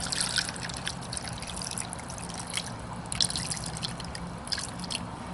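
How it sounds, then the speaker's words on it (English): Water trickles and drips into a rock tumbler barrel over stones during a later polishing step, a steady soft splashing wash with faint droplet taps throughout, close and moderately quiet. "we're going to add water till it just comes up through the rocks"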